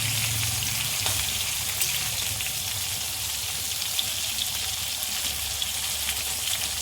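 Eggplant slices fry in hot oil, giving a dense, even, hissing sizzle that holds steady and close throughout, with no talking.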